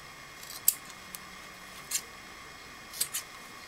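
Scissors snip fabric very close to a stitch line: a handful of short, crisp cuts spaced irregularly, fairly faint and close, with no voices.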